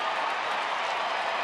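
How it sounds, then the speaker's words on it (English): A crowd of 36,000-plus at a Rangers baseball game in Texas claps steadily, a dense, even wash of applause filling the stadium. "start to clap in support of Robbie Ross and the Rangers"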